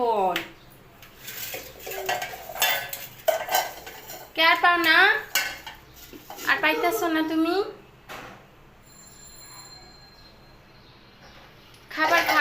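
A small child scattering pots and pans around a kitchen, loud clattering metal clanks and rattles in bursts, with voices talking and calling in between.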